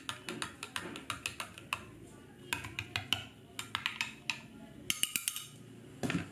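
A yeast mixture is stirred quickly in a bowl, making a rapid run of light utensil clicks and scrapes against the bowl, close and fairly quiet, with a few louder knocks near the end.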